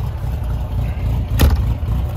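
A vehicle engine idles with a steady, loud low rumble throughout, holding an even note with only a slight swell toward the end and no voices over it.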